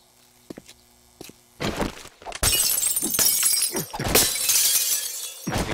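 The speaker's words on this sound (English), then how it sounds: "Thank God you can break glass still." Glass shatters repeatedly in the survival video game 7 Days to Die, with a few soft thunks and footsteps first, then loud crashing breaks and tinkling shards filling the rest.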